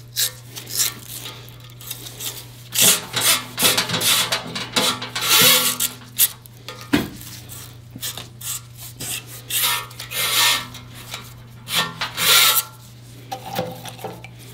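Stiff brush scrubbing a Ford FE engine block wet with solvent, a close, rasping back-and-forth rhythm in irregular bursts over a steady low hum, no talking.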